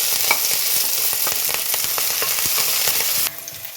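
Ginger and green chili sizzle in hot oil, a steady close crackle with quick stirring clicks and scrapes throughout, dropping slightly quieter near the end.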